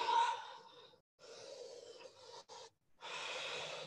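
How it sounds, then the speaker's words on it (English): During a vinyasa yoga flow, a close, audible deep breath is drawn in and released as several breathy pulses separated by brief silences. "Take a breath."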